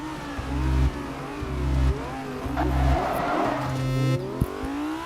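Bugatti Chiron in the Rebel Racing video game, engine revving hard through repeated gear shifts with a rhythmic rise-and-drop pattern, tyres squealing midway, loud and close with no talk.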